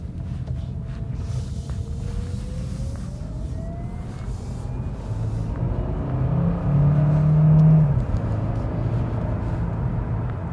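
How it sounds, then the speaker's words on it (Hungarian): Inside the cabin of a 2026 Hyundai Tucson plug-in hybrid with a turbocharged petrol engine while driving, a low steady road rumble that swells into a louder engine drone under heavier throttle, then eases off again. "Nagy padlónál behallatszik a motor, de nem rezgeti a kasznit, csak hallod finoman."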